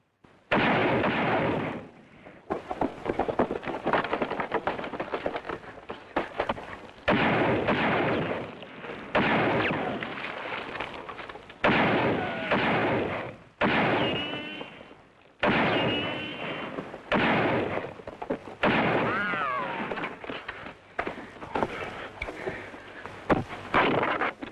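Gunfire from a 1953 western film sounds in dense, booming volleys of shots, repeated in loud bursts broken by brief pauses over about twenty-five seconds.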